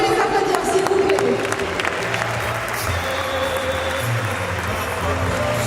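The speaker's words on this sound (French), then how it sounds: "on peut les applaudir s'il vous plaît." Crowd applauding at a challenge event, loud continuous clapping from a sizeable gathering throughout, with some cheering and voices talking mixed in beneath it.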